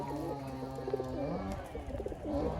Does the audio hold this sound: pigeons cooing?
yes